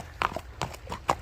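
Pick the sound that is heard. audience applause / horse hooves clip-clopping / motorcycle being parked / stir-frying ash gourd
horse hooves clip-clopping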